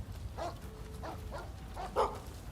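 A dog in Rise of the Ronin barks several times, four or five short yaps spaced irregularly and ending with a louder one, heard alone at moderate distance.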